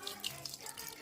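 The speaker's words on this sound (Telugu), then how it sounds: "కొన్ని పాలేయాలి." Milk poured into a container of cut sapota pieces for juice, a soft liquid trickle running steadily for about a second with faint splashy flickers, close and quiet with no talking.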